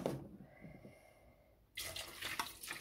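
Tap water pours into a pot while stuffed peppers are being cooked, first a soft hollow trickle, then a sudden louder gushing splash near the end, close by with no talk.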